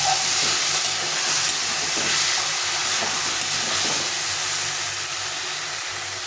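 Ridge gourd curry with lentil paste and water sautéing in a pan, a steady broad hiss and sizzle running close and loud throughout with faint scraping, no talk.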